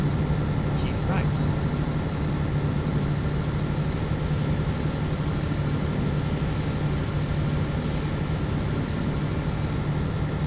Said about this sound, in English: Sounds like another jet.